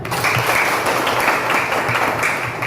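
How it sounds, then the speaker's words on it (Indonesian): Classroom applause during an Indonesian teacher-training lesson, a steady dense wash of clapping that fills the whole stretch evenly at moderate loudness. "Kita berikan aplaus"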